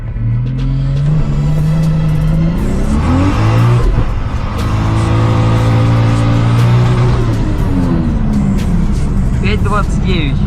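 A manual Toyota Mark II JZX90 accelerating hard in a 0-100 run: loud, close engine roar climbing in pitch, dropping at each gear shift and climbing again, continuous throughout.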